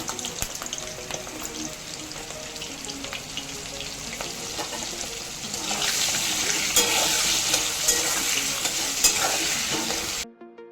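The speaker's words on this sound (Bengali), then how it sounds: "গরম তেলে জলে ভিজিয়ে ধুয়ে রাখা আলুগুলো দিয়ে দিচ্ছি। দিয়ে আলুগুলো ভেজে নেবো।" Washed potatoes sizzle and crackle steadily in hot mustard oil with salt and turmeric, a dense frying hiss with small pops that swells louder midway and stops abruptly near the end.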